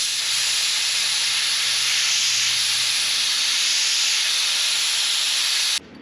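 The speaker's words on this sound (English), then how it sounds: "I'm taking compressed air and I'm going inside the filter so that way you don't blow the stuff into it, you blow the stuff out of it" Compressed air blasts through the inside of a tractor transmission filter from a Minneapolis Moline Mobilift in one loud, continuous, close hiss that cuts off abruptly near the end.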